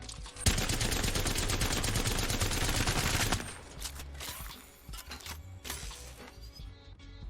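Havoc assault rifle in Apex Legends firing a sustained full-auto burst, loud and dense for about three seconds, then stopping, followed by scattered clinks and lighter mechanical handling noises.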